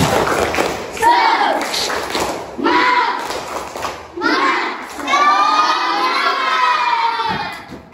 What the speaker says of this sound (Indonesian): Coba untuk kembali membangkitkan semangatnya, tepuk semangat.